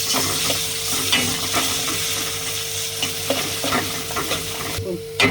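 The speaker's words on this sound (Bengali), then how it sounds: "এখন রসুন বাটা ছেড়ে দিয়ে দিলাম। এখন ভাজবো ভালো করে।" A steady sizzle of garlic paste frying in a pan, with a spoon scraping and stirring in irregular strokes, close up and without speech.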